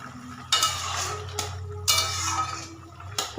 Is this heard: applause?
no